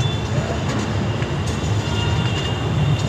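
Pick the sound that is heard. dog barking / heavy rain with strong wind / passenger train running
passenger train running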